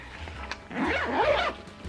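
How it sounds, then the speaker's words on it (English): A zipper on the pocket of a winter car bag is pulled closed in one quick rasping stroke, close and clear, with no talking. "So zip that back up."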